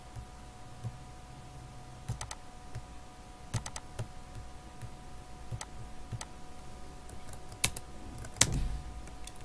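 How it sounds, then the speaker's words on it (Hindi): Someone taps away on a computer keyboard while working in Excel, with sparse, irregular clicks and short bursts of keystrokes, close and fairly quiet over a low steady hum. "यहां पे कुछ टाइप करता हूं"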